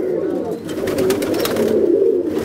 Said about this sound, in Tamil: இது சாதா புறா கர்ணப்புறா ரெண்டுமே தான் இருக்குது